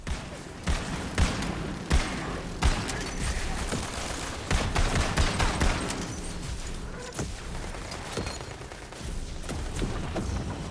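Gunfire in Tiny Tina's Wonderlands on PS5, rapid bursts of hip-fire shots with loud repeated cracks over dense game action and effects, continuing for most of the stretch.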